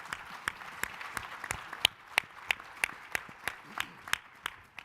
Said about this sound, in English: let's give a round of applause to this dynamic panel of mayors